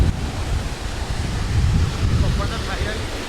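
Uski waterfall in Similipal Tiger Reserve, roughly 150 feet high, sends fast water crashing down in a loud continuous roar mixed with wind buffeting the microphone, with no talk.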